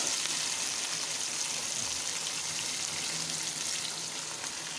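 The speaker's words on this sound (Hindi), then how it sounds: "अब मैं इसमें डालूँगी टमाटर और सब्ज़ मिर्चें। थोड़ी देर के लिए हम इसको 1-2 मिनट के लिए ऐसे पकाएंगे।" Onions, tomatoes and green chillies frying in a pan for a desi turai dish, giving a steady, close, bright hiss of sizzling oil that holds evenly throughout with no voices.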